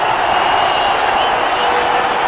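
Dense, steady roar of a cricket stadium crowd cheering a wicket during an India versus England one-day international in Kolkata, loud and continuous throughout with no break.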